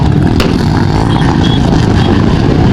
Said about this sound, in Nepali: मोटरसाइकल र्याली छ बुटलमा चाहिँ